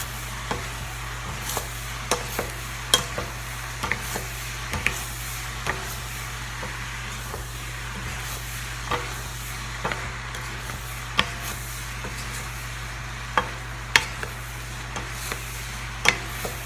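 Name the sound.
stirring teriyaki pineapple rice in a wok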